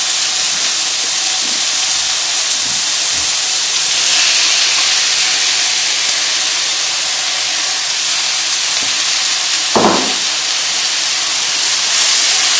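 Peppers and spring onion hit a hot frying pan and set off a steady, loud, broad hiss of sizzling that carries on throughout, with a few faint knocks and clinks underneath.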